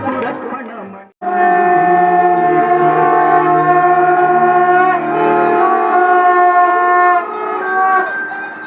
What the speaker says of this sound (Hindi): शंख की ध्वनि के साथ ही माँ गंगा की आरती पूरी हो गई।